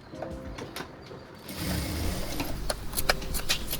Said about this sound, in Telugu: ఇప్పుడు ఇలా షేప్ బెల్ట్ చివరి వరకు స్టిచ్ చేసుకోవాలి.